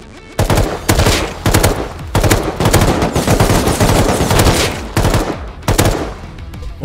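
Automatic rifle fire in the survival game Rust, long rapid bursts of loud close gunshots with short pauses between volleys.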